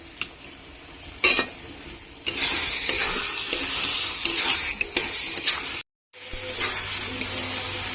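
Spices for a duck curry sizzle and fry in a pan while a utensil stirs and scrapes at intervals, with a brief pause near the end.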